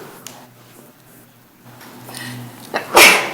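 A single sharp sneeze bursts out near the end, following quiet room tone with faint background murmur.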